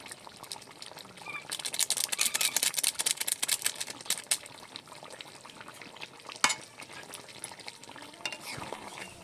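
Spoon stirring and scraping through thick, glossy braised meat curry in a pan, a steady busy clatter with soft sizzling throughout and one sharper knock near the end, close and moderately loud with no talking.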